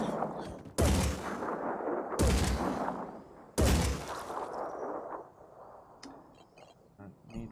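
Three loud bursts of automatic gunfire from the Phoenix Point strategy game erupt in sequence, each heavy and dense with a ringing tail, followed by quieter game clicks and effects.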